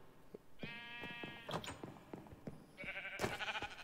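Sheep in the Minecraft video game bleat several times in quick succession, giving short, nasal, wavering calls that are moderately loud and close over a quiet background.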